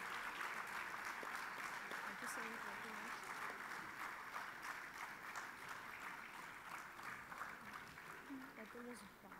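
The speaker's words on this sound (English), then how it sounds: "Please keep the applause going." Audience applause for young artists performing at a school cultural event, steady sustained clapping filling the whole stretch with a few voices and cheers mixed in underneath, gradually tapering slightly toward the end.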